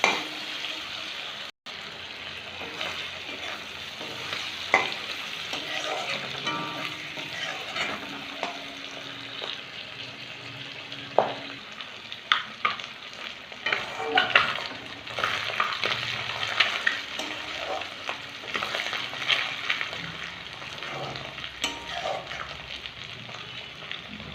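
Katla fish fat frying in a pan for a Bengali fish-oil fry, a steady close sizzle with occasional scraping stirs and pops throughout, no talking.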